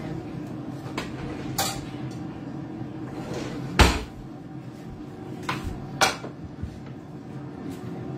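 Kitchen clatter while fetching a spoon and ladle for a shallow pan of tomato gravy: scattered sharp clinks and knocks of utensils and cupboard sounds, one louder clank midway, over quiet room tone.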